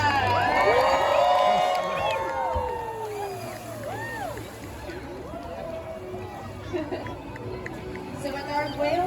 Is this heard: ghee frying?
no